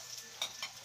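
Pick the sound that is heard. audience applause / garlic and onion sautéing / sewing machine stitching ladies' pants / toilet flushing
garlic and onion sautéing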